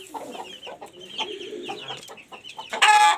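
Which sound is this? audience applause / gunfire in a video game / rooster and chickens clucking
rooster and chickens clucking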